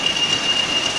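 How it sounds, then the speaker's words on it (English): A diesel locomotive-hauled train rolls past with a steady, close rumble and a thin, sustained high wheel squeal running throughout a brief moment. "Quite surprised that it was a diesel rather than steam"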